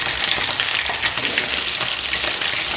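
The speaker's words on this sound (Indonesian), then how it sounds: "sekarang aku goreng pindangnya dulu" Pindang fish frying in oil in a pan, a steady close crackling sizzle with rapid popping spatters throughout and no talking.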